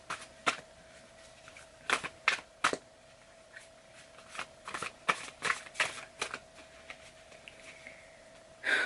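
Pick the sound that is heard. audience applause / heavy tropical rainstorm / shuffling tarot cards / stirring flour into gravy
shuffling tarot cards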